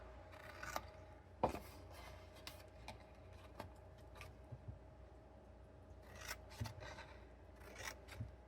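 Scissors snip through the flap of a paper gift box made with Stampin' Up! supplies, giving several sharp, close cuts at irregular intervals over a quiet background.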